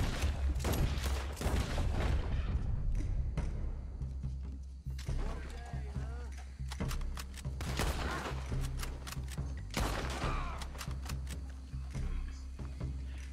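Attackers firing at the player in Red Dead Redemption 2, with dense bursts of gunshots and rapid volleys crackling nearly nonstop over a low rumble, while someone talks over the fire.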